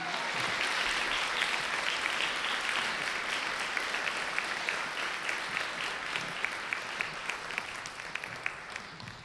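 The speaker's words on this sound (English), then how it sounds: "please keep the applause going" A crowd applauds steadily, a dense wash of clapping that carries on throughout, with a few louder individual claps standing out toward the end.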